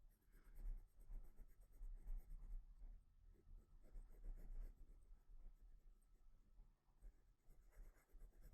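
Black colored pencil scratching on paper while defining gill lines on a fish drawing, a close, continuous soft scraping and rubbing with quick irregular strokes and no voice.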